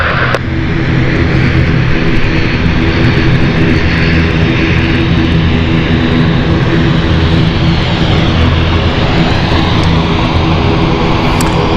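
An airliner on final approach into London City Airport roars loudly and close, a dense, continuous engine rumble and whine that fills the whole stretch without letting up, no voices present.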